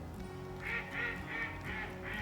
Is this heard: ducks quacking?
yes